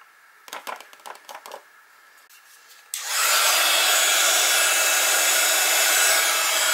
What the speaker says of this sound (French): Et je vais chauffer au heat gun.